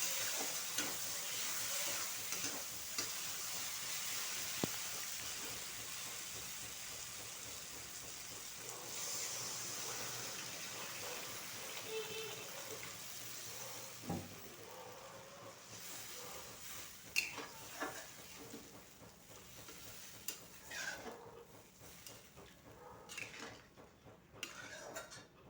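A pot of water with fried potatoes heats for rui fish curry, giving a soft steady sizzle and bubbling with occasional clinks of a utensil, faint and close.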